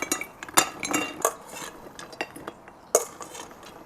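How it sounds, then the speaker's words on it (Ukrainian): Garlic bread croutons being tipped and spread onto a nice plate, a scatter of light clinks and clatters of crumbs and utensil against dishware, irregular and close with quiet gaps between. "Тепер беремо красиву тарілочку і викладаємо"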